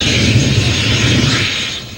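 Canadian Forces military helicopters during a troop exercise, a loud, close, steady engine roar with rotor rumble that eases slightly toward the end, no voices.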